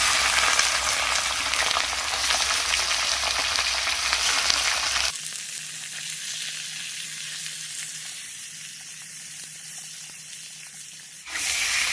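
Mutton pieces fry in mustard oil with bay leaf and whole garam masala, giving a loud, dense, steady sizzle that drops suddenly to a quieter crackling hiss, then briefly flares again at the end; no voices.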